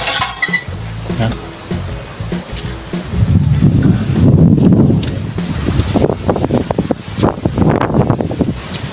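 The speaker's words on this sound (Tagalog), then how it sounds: "Hangin paskuhin lang to." Rainy gusting wind blows across a farm, buffeting the microphone with rumbling surges that swell mid-way and then flutter in uneven bursts, with rustling in the background.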